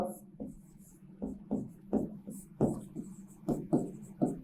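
Chalk or a marker writes on a board in a lecture on animal husbandry and feeding, making short scratchy strokes in uneven bursts, close and clear.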